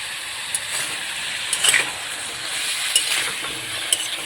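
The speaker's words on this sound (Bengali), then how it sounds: "মশলার সঙ্গে কপি আর আলু কেটে রাখা গাজরগুলোকে ভেজে নেব ভালোভাবে।" Cauliflower, potatoes and carrots fry in a pan with cumin powder and salt for a broken-wheat khichdi. A steady close sizzle runs throughout, with a few brief clinks of stirring.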